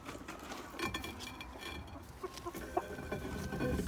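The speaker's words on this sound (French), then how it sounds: "C'est elle la poule dedans." A hen clucking inside a chicken coop, soft scattered clucks and small calls amid scratchy rustling and background noise, faint and fairly close.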